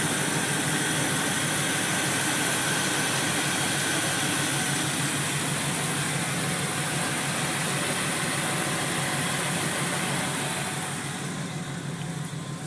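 A Chevy truck engine idles steadily with the hood up, a loud, continuous close rumble with hiss that stays constant and eases slightly near the end.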